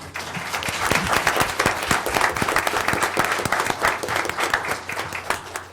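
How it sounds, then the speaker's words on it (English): A school Board of Education meeting audience gives a sustained round of applause for award recipients standing before them, dense overlapping claps steady throughout and filling the room without voices on top. "I'd like to give you all a round of applause"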